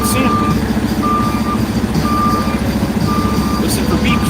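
A reversing truck sounds a steady series of loud, evenly spaced electronic beeps, about one per second, over the rumble of traffic and engine noise.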